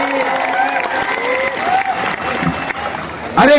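A crowd at a village wrestling festival in Kolhapur applauds steadily under an announcer talking over a loudspeaker, and a louder burst of clapping comes near the end.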